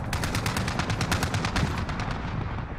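Rapid automatic gunfire in the video game Call of Duty Warzone, a fast run of repeated cracking shots that stays fairly loud and steady throughout, with no talk.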